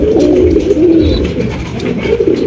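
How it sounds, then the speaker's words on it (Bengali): A pair of exhibition pigeons, blowers in a light colour, cooing loudly and close in a low, throaty continuous burble with no talk. "অনেক সুন্দর এক জোড়া এক্সিবিশন কবুতর"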